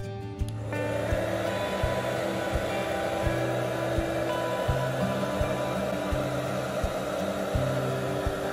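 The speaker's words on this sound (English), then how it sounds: "so use hairdryer again." A hair dryer runs continuously close by, heating a glued metal panel on an iPhone 11 Pro during a charging port repair, a steady whirring blow with a faint tonal hum throughout.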